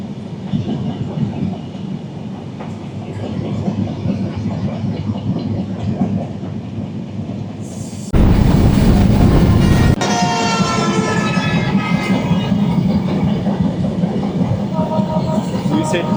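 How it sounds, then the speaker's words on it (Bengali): The Sundarban Express passenger train runs along the tracks beside an expressway, with a steady loud rumble and rattle that swells into a harsh roaring rush partway through, then continues with rhythmic clatter. "আর এক পাশে হচ্ছে ট্রেন চলছে।"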